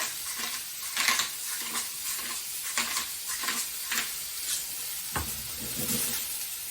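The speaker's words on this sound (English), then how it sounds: "And I'm going to give it another saute." Mushrooms sauté in melted butter seasoned with kosher salt and black pepper, giving a steady close sizzle broken by repeated scraping stirs of the pan, with no voices.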